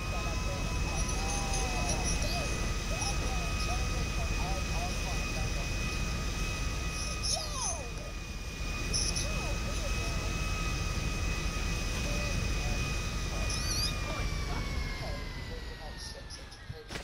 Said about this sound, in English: I'm trying to steal this plane. I can't steal this plane.